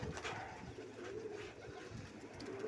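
Pigeons let outside in the sun give soft, low cooing, faint and somewhat distant, in a short uneven run with no speech.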